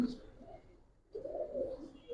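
A pigeon at a loft selling Giribaz and coloured breeds coos in low, soft bursts, one near the start and a longer run after a brief pause, close by with faint background noise.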